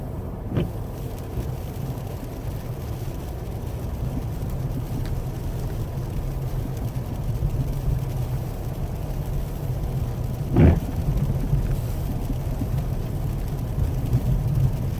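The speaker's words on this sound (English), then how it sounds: "we're going to go snow driving" A car drives along a snowy road, giving a steady low rumble of engine and tire noise that holds evenly throughout, with one brief louder knock near the end.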